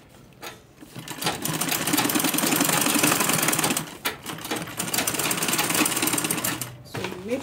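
A sewing machine runs in long continuous bursts while stitching a branded bag, loud and close, pausing briefly around the middle before resuming.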